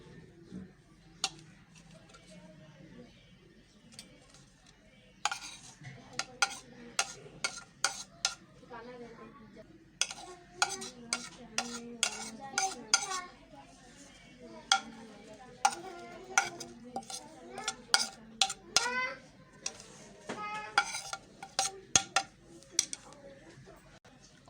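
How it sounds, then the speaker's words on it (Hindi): Mashed potato mixed with chopped onion, tomato, coriander and green chilli is stirred in a bowl, giving repeated soft scraping and tapping strokes in an irregular rhythm, close and fairly quiet, with a voice talking underneath. "और इसे अच्छे से मिक्स कर लेंगे।"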